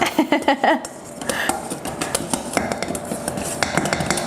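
A utensil stirs salad dressing in a bowl, with quick metallic clinks at first and then softer, scraping stirring, close by.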